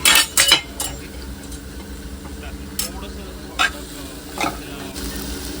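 Spoon scraping and clinking as soybean curry is stirred in a pan over a high gas flame, with loud clattering bursts near the start, a few sharp knocks later, and a soft sizzle underneath.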